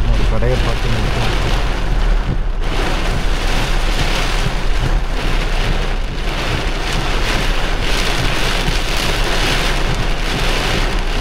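Heavy cyclone rain pours down during a road trip to Mudumalai with traffic halted. It is a loud, continuous, dense downpour drumming on surfaces without letup for the full stretch.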